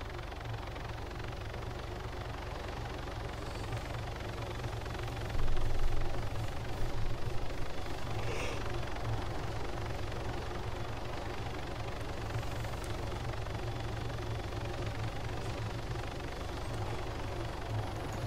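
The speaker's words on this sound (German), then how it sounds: "Ach, der kommt mit einem Helikopter." A helicopter's steady rotor drone from the video game Arma 3 fills the scene, holding at a constant level with a slight surge partway through, with no voices over it.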